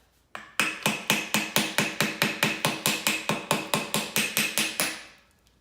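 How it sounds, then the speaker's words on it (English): A hammer taps a 1968 Impala's brake dust cap off in a quick, steady series of about twenty sharp, evenly spaced metal strikes, close and fairly loud, with no voices. "Use a little screwdriver and a hammer. Knock the dust cap off."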